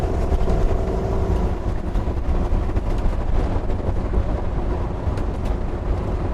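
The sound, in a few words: trucks passing a motorhome on the highway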